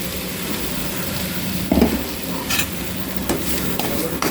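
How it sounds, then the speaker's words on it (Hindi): Cumin and coriander powder fry with masala in a pan for aloo samosa filling. A dense, close sizzle is punctuated by a few scraping stirs. "इसे अच्छे से फ्राई कर लेना चाहिए मसाले के साथ इस पाउडर को।"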